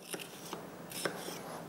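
A knife cuts through a bell pepper with its core removed: a few quiet, crisp chops spaced unevenly over a couple of seconds on a hushed kitchen background.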